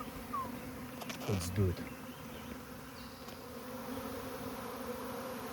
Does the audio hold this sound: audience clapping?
no